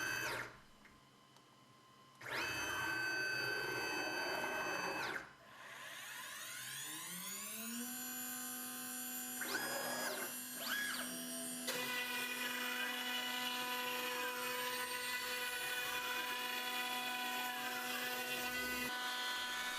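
A CNC router cuts a test comb in a home workshop, its motor whine rising and holding a steady high pitch with sweeping tonal shifts as the cutter moves, loud and continuous with no talk.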